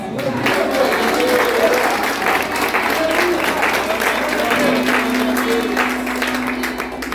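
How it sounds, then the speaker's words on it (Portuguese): A church congregation at a missions service applauds in praise, a loud, continuous wash of clapping for about seven seconds with some voices underneath. "e as palmas que louvam ao Senhor, irmãos."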